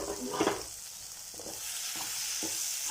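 Tomatoes for matar paneer cook in a pan with a soft, continuous sizzling hiss; a few light stirring knocks come early, then the hiss carries on alone.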